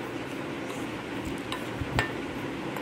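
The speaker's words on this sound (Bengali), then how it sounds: "চিনিটা দেওয়ার পরে ভালো করে মিশিয়ে নিচ্ছি।" A spoon stirring powdered sugar into chocolate pancake batter in a bowl, faint intermittent clinks and scrapes against the bowl over a steady low background hiss.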